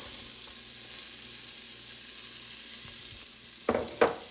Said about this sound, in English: Hopefully you can hear me over this hot sizzling pan.